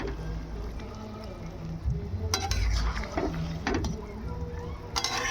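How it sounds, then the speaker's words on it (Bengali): Fried eggs being stirred through a simmering chili curry gravy, with a spoon scraping and clinking against the pot over a low bubbling sizzle, plus a few louder knocks near the end. "আমরা এটাকে একটু ভালোভাবে নেড়ে চেড়ে নেব।"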